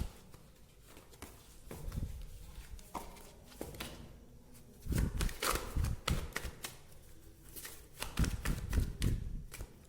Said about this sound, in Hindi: ये देखिए गाइस, कितने सारे कार्ड्स